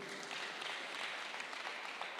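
A gathering at a Kiambu political event breaks into applause for Esther Irungu, a steady, fairly distant patter of many hands clapping without pause.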